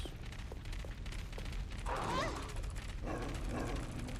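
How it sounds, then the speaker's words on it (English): Dogs bark in Resident Evil Code Veronica X gameplay, a few yelping barks rising over steady game ambience and a low rumble, with a second burst shortly after. "Now we pray I don't get bit here by the dogs."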